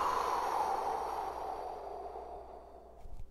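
A long, steady exhaled breath at the end of a home workout's breathing exercise, close and audible on its own, tapering off gradually with a faint rustle at the end.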